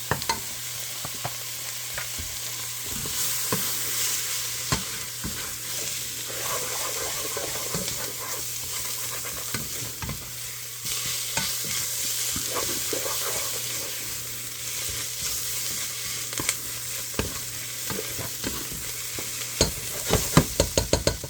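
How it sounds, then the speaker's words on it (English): Flour sizzles in a pan as a roux for tuna noodle casserole: a steady hiss runs throughout, with frequent scraping strokes of stirring and a faint background hum. "now we are going to go ahead and put some flour to make our roux"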